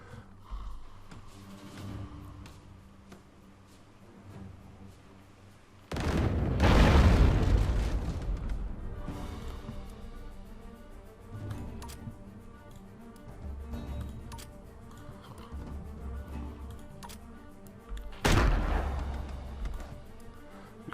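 Mortar and cannon fire in the naval game Factions & Forts: two heavy booms, one early and one late, each with a long rumbling tail, amid scattered distant thuds and background battle noise.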